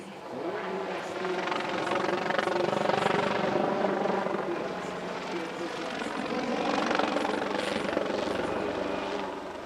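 A PZL Swidnik SW4 Puszczyk helicopter flies a solo display at the Radom Airshow 2023, its rotor and engine making a steady, rhythmic thrum that swells and eases as it moves. A voice talks over it throughout.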